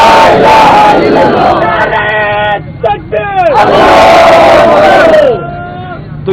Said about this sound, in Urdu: تو یہ جو آپ نے نعرے لگائے ہیں ابھی